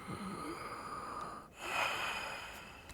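A patient in an old-West doctor's examination in Red Dead Redemption 2 breathes deeply on command, a slow drawn inhale and exhale, close and fairly quiet, with no talk.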